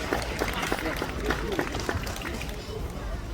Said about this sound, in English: Big round of applause for Andy as he heads off stage.